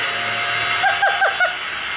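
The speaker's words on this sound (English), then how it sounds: "Yeah, dust free Hoover." A Hoover vacuum cleaner runs steadily in a lounge being prepared for decorating, a loud continuous whine and hiss with a few brief fluttering changes in pitch as it is moved about.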